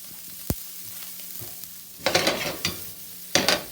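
Leftover pork sautéing in a hot pan gives a steady low sizzle that swells into louder bursts of frying as the pieces are stirred and shifted, with one sharp knock early on.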